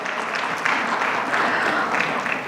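Applause from an audience at a corporate HR panel discussion, dense continuous clapping filling the room at a steady moderate level for a couple of seconds.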